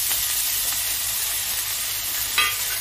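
Asafoetida and grated ginger hit hot oil in a pan, a close, steady sizzling hiss that holds throughout with a small sputter near the end and no voices.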